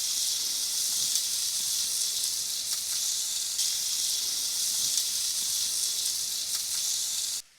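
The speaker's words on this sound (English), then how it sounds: "And now we're going to add our onion and pepper." Onions and peppers hit hot butter in a skillet that already holds browned ground beef, giving a loud, steady, bright sizzle and hiss that holds unbroken for several seconds, then cuts off abruptly.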